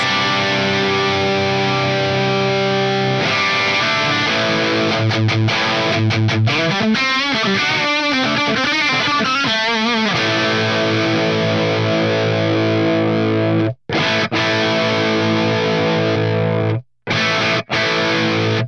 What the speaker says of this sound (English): if you play around with this, you'll get different distortion characteristics